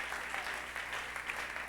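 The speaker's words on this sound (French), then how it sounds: "applaudissez pour le Seigneur" A church congregation applauds for the Lord, a steady, dense wash of many hands clapping throughout, fairly close and sustained with no break.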